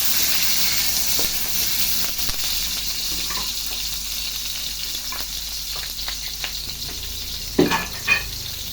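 Onions fry in a pan while cooking seafood laksa, giving a steady broadband sizzle that holds through the clip, with a couple of louder spattering bursts near the end.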